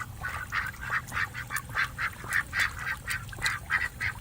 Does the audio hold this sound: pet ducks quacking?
yes